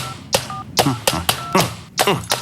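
Touch-tone telephone dialing beeps sound in short bursts between speech, as someone calls up a number on a phone in a TD Ameritrade television commercial.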